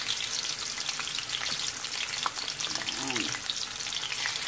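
Chicken pieces frying in a pan for a creamy chicken curry, a steady close sizzle with light stirring scrapes, and a brief spoken word partway through.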